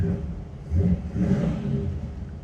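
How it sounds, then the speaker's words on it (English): A Blueprint V8 crate engine in a 1970 Chevy C10 pickup starts and revs up a couple of times, a steady low growl swelling and easing, close by. "Engine sounds awesome."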